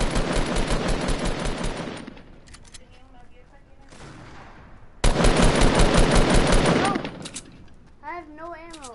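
Rapid automatic gunfire in Fortnite, two loud sustained bursts of fast shots separated by a quieter gap, with a voice speaking briefly near the end.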